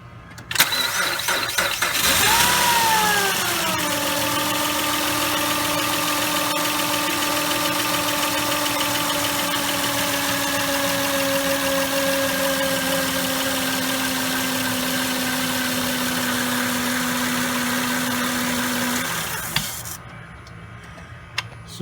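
A 2007 Honda Pilot engine cranks briefly and catches, then settles into a steady idle with a sustained high whine from a failing alternator running alone for about fifteen seconds before cutting off.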